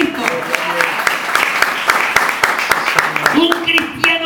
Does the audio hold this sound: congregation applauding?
yes